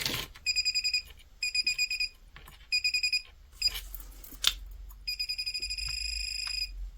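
Handheld pinpointer metal detector beeping in rapid bursts of electronic pips as it passes over a small cut piece of aluminum heatsink, several pulsed volleys separated by short pauses, then a longer steady tone near the end.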